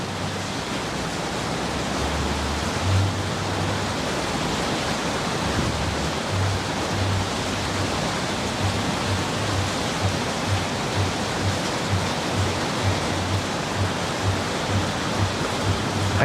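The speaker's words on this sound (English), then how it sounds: "The rain is getting worse, too." Heavy rain pours down in a dense, continuous roar of broad hiss, loud and unbroken, with a low intermittent hum underneath and no voices.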